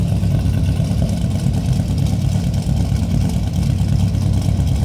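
A 1970 Oldsmobile Cutlass Sports Coupe engine idles close by with a deep, steady, loud rumble that stays even from start to finish.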